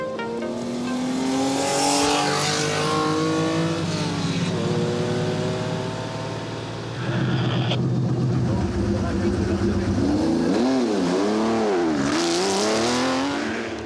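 Vintage race cars at the Tour Auto rev and accelerate with rising and falling engine notes, passing close by with changing pitch and tire noise, while a narrator talks over them.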